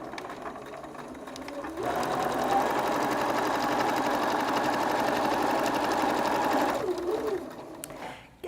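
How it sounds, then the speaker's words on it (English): A sewing machine runs a single continuous seam across fabric for about five seconds, close and loud with a fast whirring stitch, starting and stopping cleanly amid a quiet room. "So we'll put that there, and we'll sew across here."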